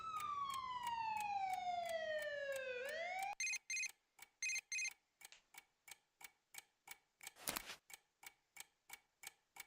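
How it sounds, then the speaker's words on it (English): Distant police sirens in the video game Persona 5 Golden wail with a steadily falling pitch for a few seconds, then cut off, leaving an even, clock-like ticking. "Sirens in the distance."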